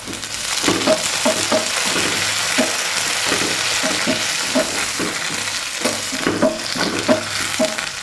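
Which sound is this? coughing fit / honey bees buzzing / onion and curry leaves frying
onion and curry leaves frying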